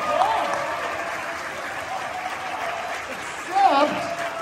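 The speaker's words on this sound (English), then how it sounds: "Give yourself a big round of applause" Sustained applause from an audience at an awards ceremony at Essex County College in Newark, a steady wash of clapping with a voice cutting in briefly near the end.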